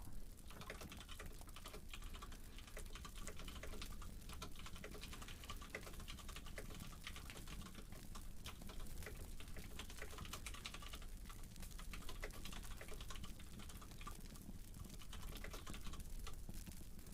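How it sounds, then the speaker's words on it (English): Steady typing on a computer keyboard, soft rapid key clicks in irregular bursts, close and quiet, continuing throughout with no talking. "sorry if the typing's a bit louder, just reading some stuff"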